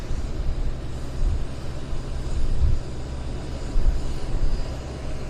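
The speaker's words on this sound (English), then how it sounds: "And now we've got our Air Canada from Seoul. There it is." An Air Canada Boeing 787 Dreamliner arriving from Seoul lands at Vancouver airport, a steady broad jet roar with low rumble that swells and eases slightly, heard from a distance without talk.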